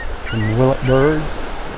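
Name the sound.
willet screeching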